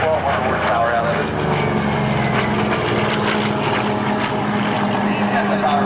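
A Corsair warplane with its R2800 radial engine flies past at an airshow, a loud, steady propeller drone filling the air while a voice commentates over it.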